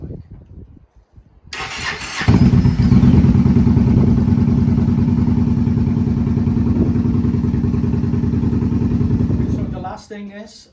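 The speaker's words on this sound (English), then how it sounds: "And now we're gonna go and start the bike." A 2014 Yamaha Bolt 950cc motorcycle engine cranks and catches, then settles into a loud, steady, lumpy idle for several seconds before shutting off, recorded up close.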